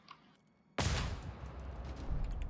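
Gunfire in the co-op shooter GTFO, a sudden loud burst after a quiet moment that continues as a sustained rattling barrage.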